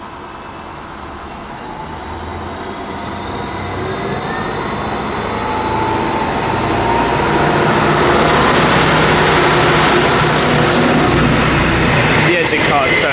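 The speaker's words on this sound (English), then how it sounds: "departing now will be the 10:22 Greater Anglia service to Lowestoft" Greater Anglia diesel train pulling out of a station, its loud engine car droning and building steadily over several seconds, with a rising whine and wheel squeal as it moves away.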